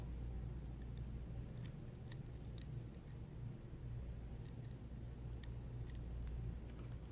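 Scissors snip along a red line on a paper DIY wind catcher: faint, crisp cutting clicks come in a few irregular bursts over a low steady background rumble, with no one speaking.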